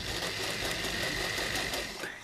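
A sewing machine runs steadily for a couple of seconds, a continuous close mechanical whir of stitching that eases slightly at the end.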